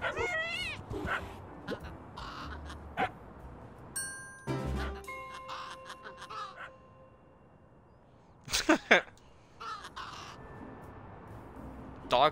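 A dog barking jump scare in a video game: sudden sharp barks and yips burst out amid scattered game sounds, with crow-like caws and whimpers, loudest in a cluster of barks late in the clip.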